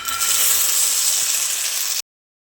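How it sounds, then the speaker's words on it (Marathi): Green peas fry in hot oil in a kadhai, giving a steady, close, bright sizzle with no talk for about two seconds before cutting off abruptly. "वाटाणे आपल्याला आहे ना फ्राय करून घ्यायचे थोडेसे तेलामध्ये"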